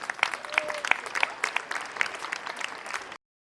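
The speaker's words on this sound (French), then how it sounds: "On l'applaudit super fort." Audience applause at the final of a singing contest, a burst of clapping from a modest crowd with distinct individual claps, steady for about three seconds before stopping abruptly.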